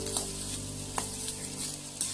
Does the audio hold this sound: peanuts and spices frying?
yes